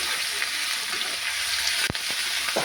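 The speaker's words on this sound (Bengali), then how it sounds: "আমরা ভালো করে ভাজি পেঁয়াজটাকে" Onions and green chilies fry in oil, producing a loud, dense, continuous sizzle with a couple of brief stirring knocks near the end, no speech.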